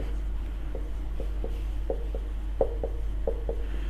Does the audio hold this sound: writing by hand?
yes